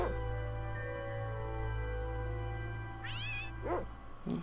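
A cat in an SNES video game meows a few times over a steady electronic hum and tonal background, short rising calls near the end.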